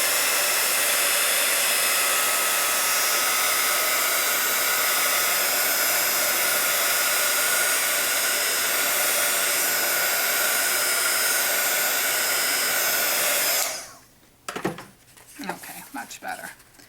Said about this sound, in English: my corners are still really wet, so let me just dry that real quick